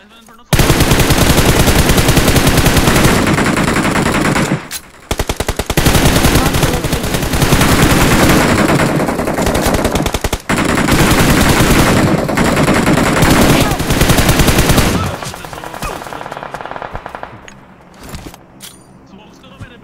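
Loud automatic gunfire rattles through a firefight in a video game, with dense, sustained bursts separated by brief gaps before the shooting thins out and fades near the end.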